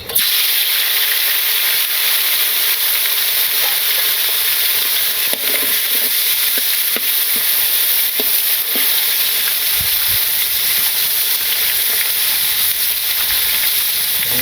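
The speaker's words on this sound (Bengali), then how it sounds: "এখন মাছ ভেজে নেই" Koi fish frying in a pan with oil, a loud, steady, close sizzle and hiss that continues unbroken, with faint occasional crackles and stirring underneath.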